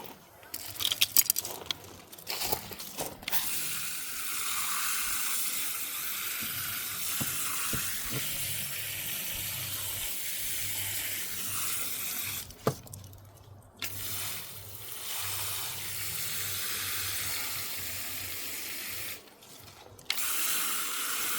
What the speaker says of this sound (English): Give it a water.